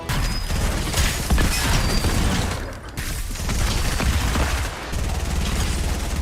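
Gunfire rattles in the video game Fortnite, with dense bursts of shots and mechanical clatter running continuously with brief dips, loud and close with no speech.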